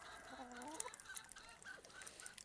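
Moulting domestic ducks quack in a faint, loose series of nasal honks, a few birds calling over one another at a distance.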